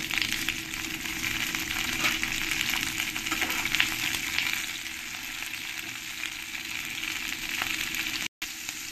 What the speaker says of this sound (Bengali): এবার এর মধ্যে দিয়ে দেবো আমি টমেটো আর কাঁচা লঙ্কা, এগুলোও পেঁয়াজের সঙ্গেই আমি ফ্রাই করে নেব।